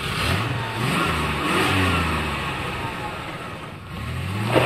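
A car engine runs and revs after starting, a loud close mid-pitched roar that rises and falls in several swells, steady throughout with no clear talk.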